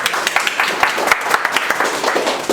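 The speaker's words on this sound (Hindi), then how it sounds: "एक बार एमडी सर के लिए जोरदार ताली बजाइए।" A roomful of students claps loudly for the MD during an electronics repair class on power lines and ICs, a brisk, dense burst of hand claps with sharp individual slaps, sustained throughout.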